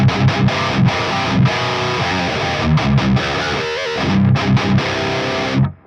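Distorted electric guitar played through a 5150 amp plugin with cabinet 1: loud, dense chugging riffs with palm-muted stabs and short pauses, ending abruptly.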